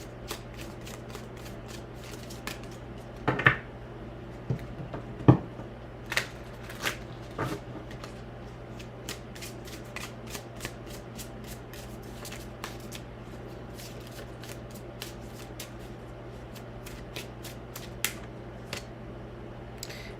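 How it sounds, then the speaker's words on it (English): Zammer Twins Oracle cards being shuffled and handled, with scattered soft riffling clicks and a few sharper card slaps over a steady low hum, fairly quiet and close, with no talking. "we'll draw some cards from the Zammer Twins Oracle."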